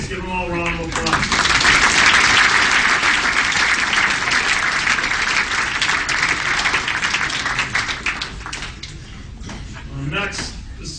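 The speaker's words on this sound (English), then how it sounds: "So please give them all a round of applause." Room-filling applause at a high school athletics banquet, loud and steady for several seconds before thinning out, with voices audible at the start and end.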